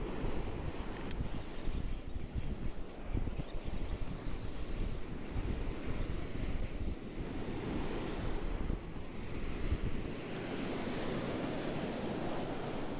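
Ocean surf rolls onto a Cape Cod National Seashore beach at night, a steady close roar of breaking waves mixed with gusty wind buffeting the microphone.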